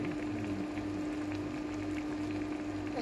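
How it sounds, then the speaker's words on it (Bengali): Hilsa fish and ash gourd cook in a pot, giving off a steady, even bubbling and hiss of simmering liquid that continues without pause. "এই জন্য ইলিশ মাছ দিয়ে চাল কুমড়া রান্না করছি।"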